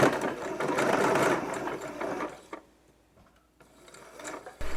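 Sewing machine stitching lace onto a doll shoe spat, a fast close motor whir for about two seconds, then near silence with a few soft handling clicks before it briefly starts again.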